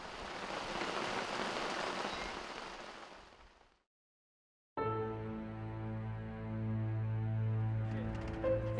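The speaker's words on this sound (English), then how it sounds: "the rains have finally poured in Old Kinye Conservancy." Steady broadband hiss of heavy rain falling after a long drought on a conservancy in Kenya, loud and continuous, then a short silence before a different passage with steady tonal music-like hum.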